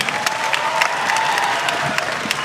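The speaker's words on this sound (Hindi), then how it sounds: "बहुत बढ़िया, जोरदार तालियां।" An audience applauds a Bollywood actor at the Ratnavali festival in Kurukshetra, a steady wash of crowd clapping with a few sharp individual claps and faint cheering, loud and sustained.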